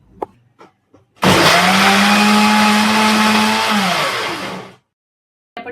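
A mixer grinder roars steadily for about three and a half seconds while grinding a paste of coriander, garlic, green chili, ginger, cumin and salt, its motor pitch sagging slightly under load before cutting off, with a few soft clicks before it starts.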